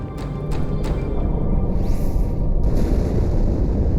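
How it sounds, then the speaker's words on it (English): A deep, sustained rumbling explosion aboard the ship Athens in Halo 2 builds and holds as a dense, loud roar, with a few sharp cracks near the start. "That explosion came from inside the Athens, same as the Malta."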